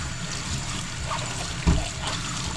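A huge freshly harvested garden vegetable gets rinsed under running water in a kitchen. A brief, close splash and trickle runs steadily, with one heavier slosh near the end.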